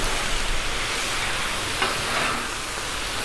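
Steady sizzling crackles from pork fried rice frying on a hot Blackstone flat-top griddle, with a brief scrape of stirring partway through; no voices.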